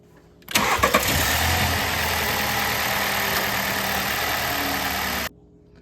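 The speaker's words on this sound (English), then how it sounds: "Start the engine, warm it up, let it run for a few minutes" A 2018 VW Tiguan TSI 4Motion starts with a brief crank, then runs at a loud, steady idle for close to five seconds before the sound cuts off abruptly.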